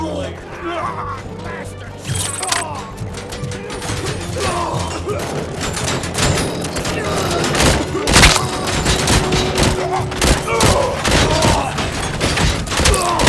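Rapid bursts of gunfire and mechanical clatter in the video game Robocop: Rogue City, dense and loud throughout, with thuds and crashes mixed in and voices shouting over the shooting.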